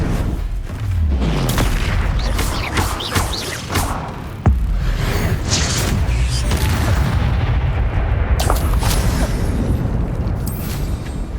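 A Bombarda spell goes off in the video game Hogwarts Legacy with heavy booming blasts and whooshes, one sharp impact standing out midway amid a dense, loud battle din.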